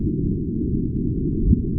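Gravitational waves from two merging black holes converted to sound: a low, steady rumbling hum with a brief thump near the end, loud and continuous with no talking.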